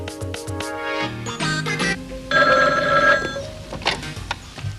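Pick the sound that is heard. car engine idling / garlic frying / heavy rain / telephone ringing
telephone ringing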